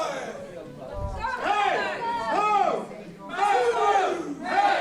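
A wrestling crowd at an independent Indy wrestling tournament show chants and cheers in loud rhythmic swells, with brief dips between bursts of massed voices filling the hall.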